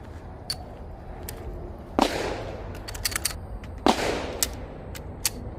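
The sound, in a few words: pistol shots, FN 509 tactical, five rounds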